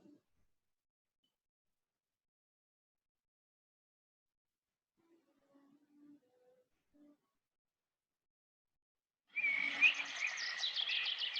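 Birdsong bursts in near the end after mostly quiet moments with a few faint low sounds; finches, blackbirds and other forest birds chirp and sing together in a forest after dawn rain, fairly close and lively.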